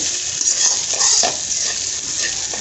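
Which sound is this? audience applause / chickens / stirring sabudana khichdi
stirring sabudana khichdi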